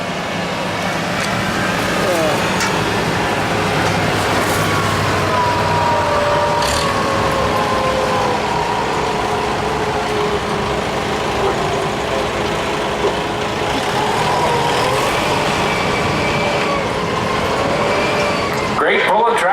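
A 5000 lb stock tractor roaring under load in a tractor pull, a sustained loud engine drone throughout, with announcer talk over it.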